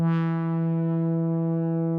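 A single sustained analog synthesizer lead tone, detuned, from a Yamaha CS-80, with a rich, buzzy harmonic stack, bright at the attack and then holding steady for about two seconds.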